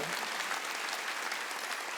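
Congregation applause fills a Korean Wednesday worship service, loud, dense and even, with many hands clapping together in a continuous roar from start to finish.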